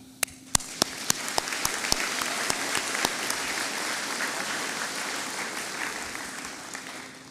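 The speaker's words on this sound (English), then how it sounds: "A round of applause for the staff." A graduation crowd applauds the school staff with steady clapping, and a few sharp, louder claps stand out near the start before the ovation settles into a dense, even wash.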